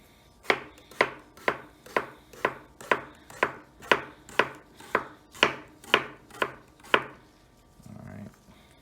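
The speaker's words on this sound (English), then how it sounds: "So what we want to do is to cut them in thin slices right now." A knife slices vegetables into thin slices on a cutting board for a seaweed noodle salad, about thirteen crisp, evenly spaced chops close by, then a short soft shuffle.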